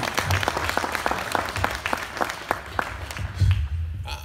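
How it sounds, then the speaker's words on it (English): An audience at a conference gathering applauds steadily, a dense spread of clapping with some louder individual claps, fading slightly toward the end. "Let's give him a round of applause."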